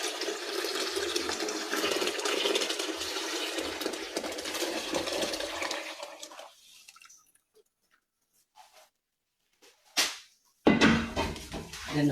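Boiled water pours into melted shea butter in a continuous splashing stream for several seconds, then falls quiet, followed by a few faint drips and a short burst of handling noise.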